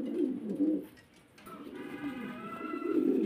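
Several pigeons cooing together at a pigeon farm, low throaty calls overlapping almost continuously, close by and fairly loud, with a brief quieter gap midway.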